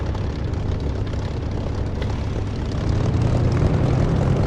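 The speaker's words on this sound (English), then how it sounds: "I'll start taxiing using the method I just said with rudder and brake" A simulated aircraft taxis in the DCS flight simulator, its engine a loud, continuous drone that swells slightly toward the end, with no speech over it.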